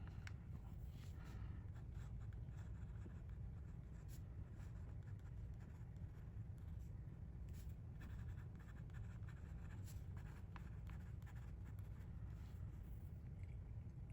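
A Kakimori nib pen scratches out an ink swatch on paper, a steady close, faint scraping that runs continuously without a break or any voice.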